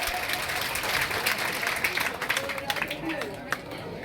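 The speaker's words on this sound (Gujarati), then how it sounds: "તાળીઓ પાડો" Crowd clapping at an outdoor village gathering, a steady dense patter of many hands throughout, with murmuring voices mixed underneath.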